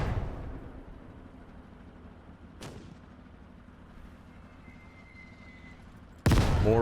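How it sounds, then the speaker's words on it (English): Distant battle sounds in the video game Gates of Hell: a low rumbling backdrop, one sharp gunshot crack partway through, then a loud burst of explosive gunfire at the end. "Okay, more explosions."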